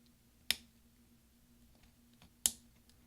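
Two sharp clicks of a replacement key snapping into place on a mid-2010 13-inch MacBook Pro keyboard, about two seconds apart, crisp and close with a faint hum underneath and nothing else.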